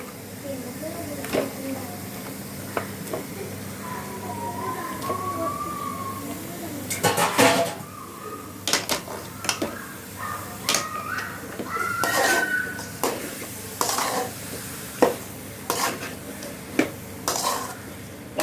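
Chicken goes into a simmering curry in a pan, with scattered clanks of a spoon against metal, soft stirring and a low hiss, broken by several sharp knocks and a stretch of talking.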